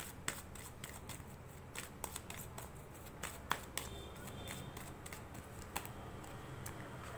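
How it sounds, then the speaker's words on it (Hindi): Tarot cards are handled and shuffled close by in quiet, rapid, irregular papery clicks and flicks that run steadily throughout, with no talk. "चलिए और भी कार्ड्स देखते हैं, और भी कार्ड्स देखते हैं।"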